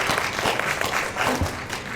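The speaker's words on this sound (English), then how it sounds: "Can we have another round of applause?" Brief applause from an awards ceremony audience, steady clapping filling a short moment at moderate loudness.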